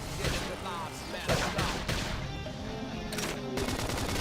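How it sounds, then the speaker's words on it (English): Rapid gunfire from a battle in the video game Xenoblade Chronicles X: Definitive Edition, dense bursts running throughout amid loud combat effects and game music, with voices speaking over it. "If we can just topple them with gunfire."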